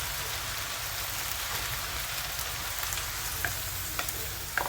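Lo mein sizzling steadily in a skillet while being stirred, a continuous close frying hiss with light scraping clicks from the spoon near the end, and no talking.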